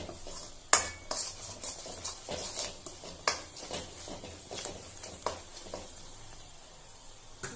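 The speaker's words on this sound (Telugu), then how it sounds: "గరం మసాలా వేసి ఇప్పుడు బాగా కలపాలి" Garam masala being stirred into a pan of pickle, a spoon scraping and knocking against the metal in irregular strokes over a faint sizzle, fairly quiet and close, with no talking.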